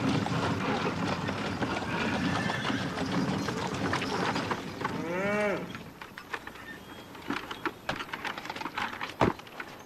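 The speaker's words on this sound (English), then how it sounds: "Travis, I want to stay and watch cattle." Cattle low on a working ranch, a drawn-out moo rising and falling midway through, set against steady farm-yard noise with scattered knocks and clip-clop-like thuds nearby.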